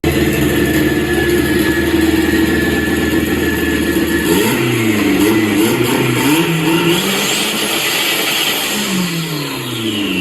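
Turbocharged Nissan 350Z engine revs loud and close, the turbo spooling up in a rising whine before a sharp blow-off valve release and a falling exhaust note.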